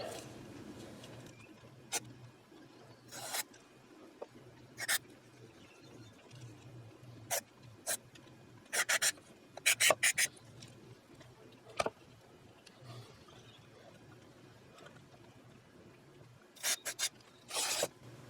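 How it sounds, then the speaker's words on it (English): Short bursts of electronic contact cleaner spray hiss, each a second or less, come at irregular intervals over a quiet background, with no talking, while restoring a 1999 Fender Telecaster. "I'm just going to spray it out. So I got my electronic spray cleaner."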